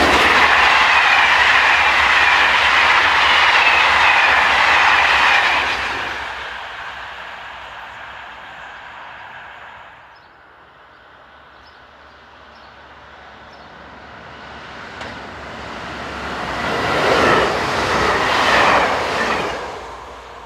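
A pair of coupled TGV high-speed train sets on the 06:44 from Marseille rushing past, a loud roar that fades into a quiet lull before a second surge of rumble and wheel noise builds near the end, with no voices.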